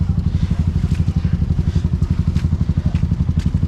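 Off-road vehicle engine running in first gear at an off-road park, a steady loud rhythmic low chugging throb with light clatter, close by and continuous.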